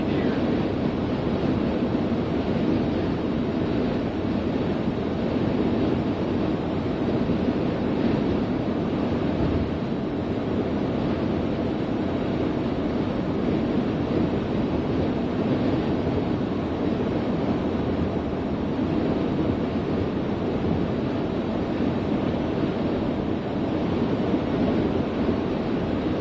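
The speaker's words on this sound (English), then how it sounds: "it's gotten a lot windier out" Strong blizzard wind roars steadily outdoors in a Christmas storm, a dense continuous rush buffeting the microphone with no pauses.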